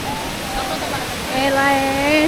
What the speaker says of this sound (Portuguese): a cachoeira aqui, essa cachoeira